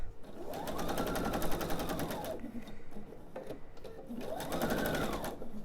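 A sewing machine stitches on a quilt border in two steady runs of rapid needle clatter, rising and easing in speed with a brief lull between, close and alone.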